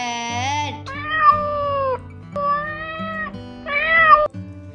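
A cat meows three times, drawn-out and wavering, each cry close and clear, with short pauses between them.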